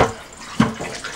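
Water pours into a developing tank for a home C-41 colour film pre-soak, a brief close splash and gurgle with no talking over it.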